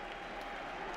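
A stadium crowd claps during a Champions League football match between Barcelona and Copenhagen, a dense distant wash of applause that holds steady for a brief moment.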